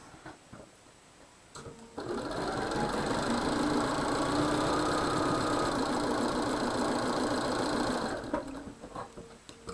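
A sewing machine stitches quilt fabric in one steady, fairly loud run of about six seconds, with quieter handling sounds before and after and no talking.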